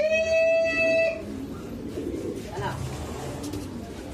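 A racing pigeon's cooing call is heard up close in the first second, followed by outdoor background noise and faint voices.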